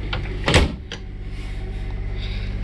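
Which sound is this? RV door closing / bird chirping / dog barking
RV door closing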